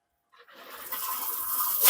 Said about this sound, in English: Definitely got cold coming through.